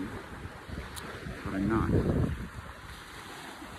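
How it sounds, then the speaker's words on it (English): Freshwater waves lap against a Finger Lakes shore near Taughannock Falls, New York, a steady low wash with a brief swell in the middle, under wind and a man's short spoken remark. "if you listen carefully, you hear those waves, you would think I was at the ocean"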